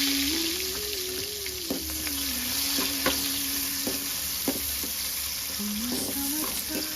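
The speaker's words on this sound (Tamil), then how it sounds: "பெரிய வெங்காயம் 2 சேர்ந்து போடுறோம்." Sliced big onions and shallots frying in hot oil in a pan for a spicy mutton boti fry, giving a steady close sizzle with occasional stirring scrapes and small pops throughout.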